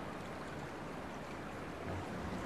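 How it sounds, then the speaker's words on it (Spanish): Flowing stream water in the video game Dear Esther, a small brook rising inside a little cave and running on its course; a steady, even rush and gurgle fills the whole stretch with no voices. "fijaos en el ruido del agua"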